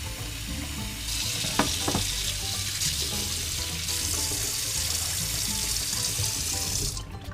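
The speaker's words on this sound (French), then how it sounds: "je vais mettre de l'eau froide dans la casserole" Cold water runs from a tap into a saucepan in a steady rushing stream, with a few clinks of metal before it starts.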